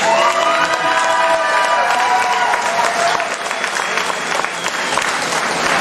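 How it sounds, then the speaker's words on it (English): A crowd applauds and cheers for wrestlers at an MWA 41st anniversary wrestling show, steady loud clapping with shouts and whistle-like calls filling the whole stretch. "Can we give them a round of applause, please?"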